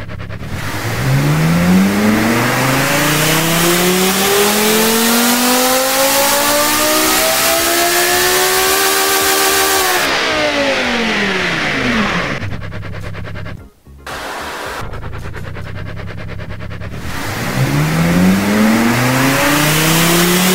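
A game-simulated car engine revs on a dyno stand, a loud continuous engine note climbing steadily in pitch, falling away, cutting out briefly, then rising again.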